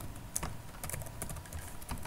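Someone types a short message on a computer keyboard, soft irregular clicks of individual keys close by, fairly quiet and without speech.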